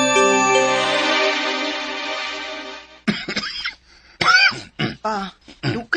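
Several harsh coughs and throat clearings come in irregular bursts, following a few seconds of a steady held tone.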